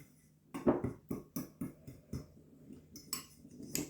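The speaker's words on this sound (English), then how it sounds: "Stir that all up." A spoon stirs nutmeg and cinnamon into a pie filling in a bowl, giving a series of quiet, irregular clinks and scrapes at close range with no talking.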